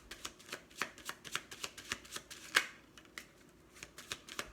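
Tarot cards shuffled and riffled by hand during a reading, a steady run of short, crisp papery flicks and slaps repeating about every third of a second, close and fairly quiet with no talking.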